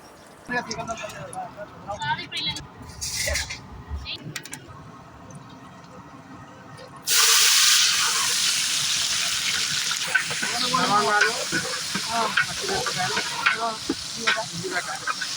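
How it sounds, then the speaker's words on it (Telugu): Oil poured into a cooking pot for a large outdoor batch of mutton curry; after a softer stretch of scraping and clatter, a sudden loud broadband hiss takes over midway and continues steadily, with light clinks over it. "ఇక్కడైతే గిన్నె పెట్టుకొని ఆయిల్ పోసుకుంటున్నాడు"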